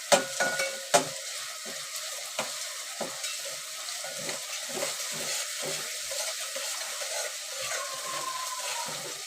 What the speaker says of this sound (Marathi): चांगली पिते तर परतून घ्यायची तेलामध्ये ती पेस्ट